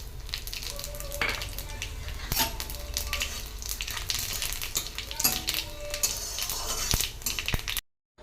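Bay leaf, dried chilli and cumin fry in hot oil for tempering, giving a busy, close sizzle with scattered pops and stirring clicks that runs continuously before cutting off abruptly.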